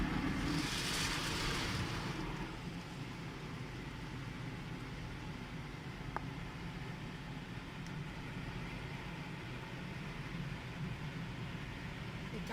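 Automatic car wash dryer blasting air over a Renault Koleos SUV, a loud hiss at first that settles into a steady blowing roar, with a faint click partway through.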